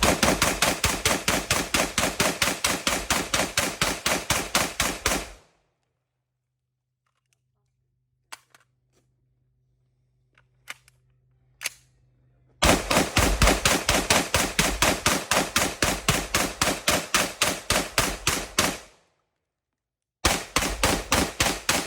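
Rapid, evenly spaced bursts of rifle fire using a TacCon 3MR trigger aimed at a pumpkin, two long strings of shots separated by a quiet pause with a few clicks, then a third burst starting at the end.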